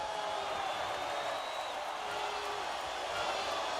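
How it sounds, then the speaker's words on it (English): An independent wrestling show crowd gives a mixed reaction, a continuous dense roar of voices with scattered whoops and shouts filling the arena, steady and moderately loud throughout. "Mixed reaction from the crowd."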